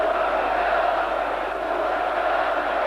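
Dense, continuous roar of a large crowd shouting at a Milosevic rally in Belgrade, a steady distant mass of voices with no single call standing out.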